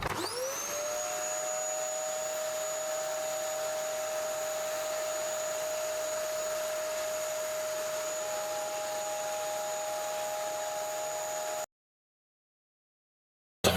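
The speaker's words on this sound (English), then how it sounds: "it's a bit dusty in there, so I'm going to get the hoover on it" A vacuum cleaner hoovers dust from an Acorn Electron home computer circuit board, a steady loud whine running for about twelve seconds before cutting off abruptly into silence.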